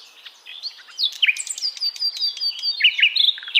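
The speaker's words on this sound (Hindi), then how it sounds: "सुबह के 6 बज रहे थे और सारा गांव पक्षियों से चहल पहल" Many small birds chirp and tweet around a village in the early morning, producing a dense, lively chorus of quick, high calls that carries on steadily without any voices.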